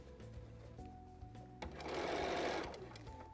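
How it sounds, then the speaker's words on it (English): A sewing machine runs at slow speed, stitching a sleeve into a garment in the round, its steady mechanical whirr building toward the end of the short burst, close and clear with no talking. "And I'm going to slowly sew."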